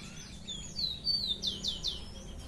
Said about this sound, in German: Ohne die Hühner, aber mit Vogelzwitschern.